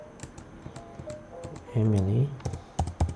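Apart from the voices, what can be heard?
typing on a computer keyboard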